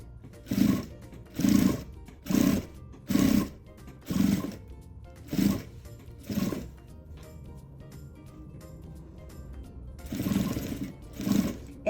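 A sewing machine stitches piping onto a diaper bag in short repeated bursts, about eight runs of motor whir separated by brief pauses, the last one longer, close and steady with no talking.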